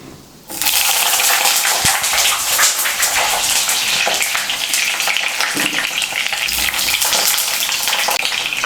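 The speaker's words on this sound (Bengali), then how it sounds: "এই তেলের মধ্যে আমি বেগুনগুলো ভেজে নেব।" Slender eggplant pieces dropped into hot oil, a loud broadband sizzle that starts suddenly and keeps going steadily and close up, with occasional pops.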